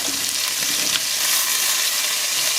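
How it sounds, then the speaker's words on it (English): Pork chops searing in a hot pan give a steady, loud, close sizzle and crackle of frying fat that runs without a break, with no voices. "we're going to continue to sear on that side for another 3 to 4 minutes"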